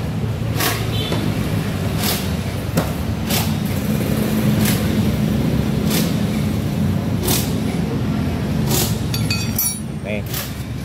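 A Honda Vario or Beat scooter engine drones steadily with the throttle held open on a straight road. The low hum is loud and continuous, with occasional rattles and clicks and a voice speaking over it.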